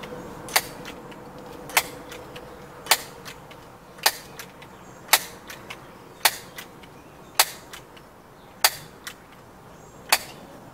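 Crosman air rifle shots firing Barracuda pellets: about ten sharp, crisp cracks spaced roughly a second apart, each brief and close, over a faint steady background hum.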